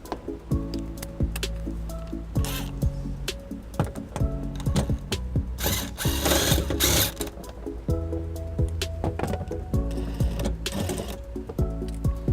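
A tool with a 10mm socket removes a center fastener during trailer wiring installation on a 2012 Toyota RAV4, producing close, rapid mechanical whirring and ratcheting clicks in uneven bursts throughout.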